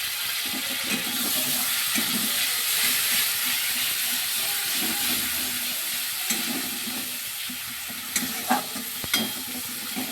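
Sprinkled water hits a hot pan of tomato-onion gravy for a Bengali tel koi fish curry, producing a steady close sizzle and hiss with stirring scrapes and a few sharp clinks near the end.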